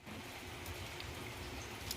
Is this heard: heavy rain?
yes